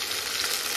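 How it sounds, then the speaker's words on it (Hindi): Chopped onions, green chili and ginger frying in a pan for a South Indian sambar, giving a steady, dense sizzle that stays loud and close throughout with no voices. "हम असं इनू हल्का हल्का पकन देंगे जिन्हें तक प्याज ब्राउन नहीं हो जाते"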